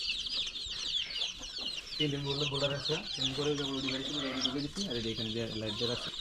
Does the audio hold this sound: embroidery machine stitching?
no